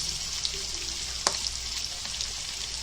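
Onions frying with salt in a hot pan, a steady close sizzle with a single sharp clink of a utensil partway through.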